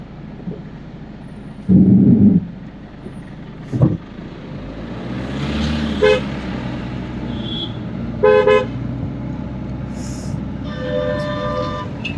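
Traffic climbing the steep Dhimbam ghat mountain road, with a steady engine rumble and several loud horn toots standing out, some short single blasts and a couple of longer sustained honks nearby.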